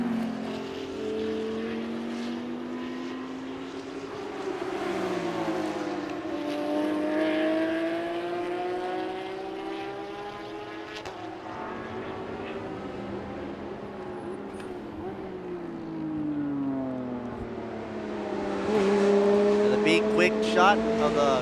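A Ferrari GT race car drives past on a racetrack during GT Asia qualifying, its engine note rising and falling over a continuous drone, with a commentator talking over it.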